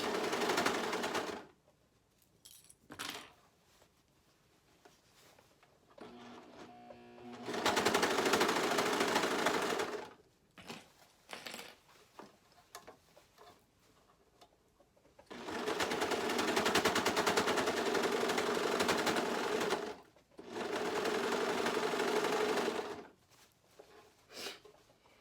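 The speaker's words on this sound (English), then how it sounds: "I'm just going to go ahead and sew across the rest" Sewing machine stitching across a handmade DIY bonnet, running in several loud, sustained bursts of rapid needle chatter separated by quiet pauses with small handling sounds.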